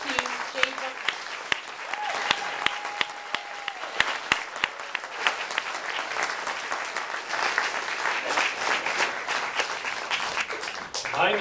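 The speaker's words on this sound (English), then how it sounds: "So please give a round of applause to Jay Bookman" A live audience applauds Jay Bookman at the Real State of the Union 2011 event. The clapping is loud and sustained, with dense, steady claps filling the room from start to finish.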